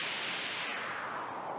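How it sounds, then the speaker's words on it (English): Broadband white noise from a Noise Toaster analog synth's white noise generator hisses steadily and evenly at moderate level, alone with no talk. "we'll flip the noise white noise generator on. So the white noise goes through the VCF"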